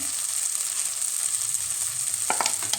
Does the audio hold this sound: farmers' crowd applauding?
no